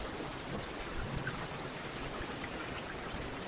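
Gentle rain falls steadily in a dense, even hiss of droplets with a soft low rumble underneath, continuous and fairly faint, with no voices.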